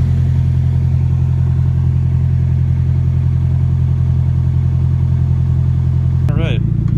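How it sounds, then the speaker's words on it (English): A Nissan S13 240SX runs at a steady idle after a fuel line replacement, its engine note a loud, continuous low hum that holds constant throughout. Near the end a brief higher-pitched rising sound cuts in over the engine. "right now I'm letting the car run just to make sure it runs and stays running"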